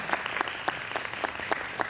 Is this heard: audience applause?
yes